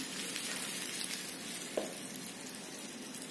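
Mustard seeds, curry leaves and asafoetida crackle and sizzle in very hot oil in a pan, a steady dense frying hiss with a single small pop near the middle, close and continuous with no voices.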